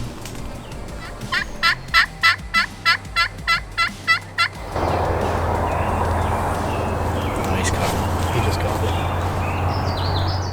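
Wild turkeys gobble at daybreak on a Kentucky hunt, a rapid run of about a dozen sharp, rhythmic gobbling calls, followed by steady outdoor noise and rustling.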